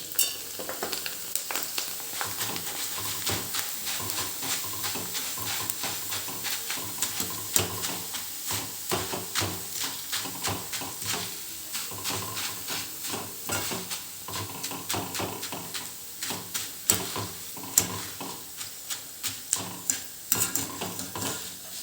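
Sabudana chevdo ingredients fry in hot oil on a medium flame, with a continuous close sizzle broken by frequent sharp stirring scrapes and clinks of a spoon against the pan, and no voices.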